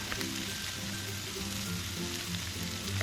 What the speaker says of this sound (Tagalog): Igisa lang natin ng bahagya.